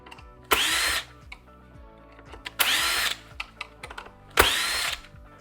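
A power screwdriver whirs in three short bursts, each about half a second, backing stainless steel self-tapping screws out of a Robo-Rover floating head, with small clicks and handling noises in the pauses between.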